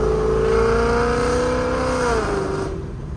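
The engine of a loud Ford Mustang GT 5.0 roars steadily from inside the car while driving, its pitch rising and holding before easing off near the end, close and dominant.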